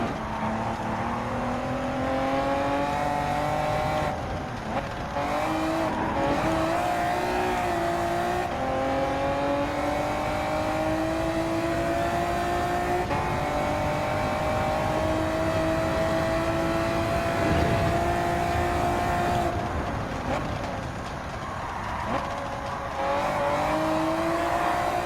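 A 2002 Honda NSX Type R at the Nurburgring in Gran Turismo 7 revs hard through repeated upshifts, its engine whine rising and dropping with short gaps between gears, continuous and close for the whole stretch.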